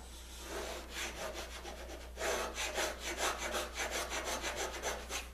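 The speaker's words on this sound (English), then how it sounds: "you're going to get a uniform depth all the way through this cut, and you can see what I'm producing here is these little shavings" A hand tool cuts a uniform-depth groove in a wooden shuffleboard light, peeling off small shavings with a steady, repeated rasping stroke, close and fairly loud, over a constant low hum and with no talk.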